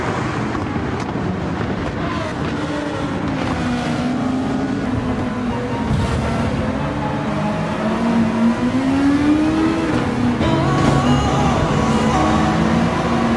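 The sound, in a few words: racing cars revving around a track in a PS5 video game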